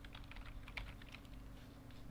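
Soft, quick keystrokes patter steadily on a computer keyboard while coding, faint and close with no talking.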